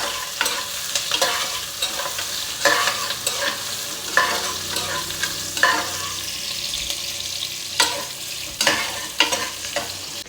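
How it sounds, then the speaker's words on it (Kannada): Curry leaves and onion fry in oil in a pan for a dish of molake kattina saaru, a steady close sizzle broken by repeated scraping stirs of a spoon against the pan, with no talking. "ಕರ್ಬೇವಿನ ಸೊಪ್ಪು, ಈರುಳ್ಳಿ ಈಗ ಫ್ರೈ ಮಾಡ್ಕೊಳ್ಳೋಣ."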